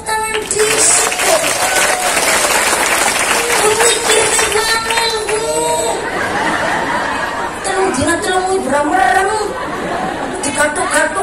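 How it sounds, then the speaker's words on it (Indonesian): Audience applause and clapping at an Islamic religious gathering at a boarding school, mixed with crowd chatter and a few chuckles, with a voice talking over the noise at close range. "Tepuk tangan di situ."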